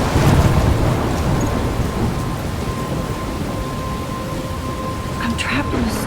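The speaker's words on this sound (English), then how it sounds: "I'm trapped in a storm?" Steady rain and rolling thunder fill a storm in the video game Life Is Strange, a loud continuous roar with no voices over it.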